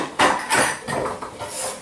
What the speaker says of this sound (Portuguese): vamos retirar aqui a nossa tabuinha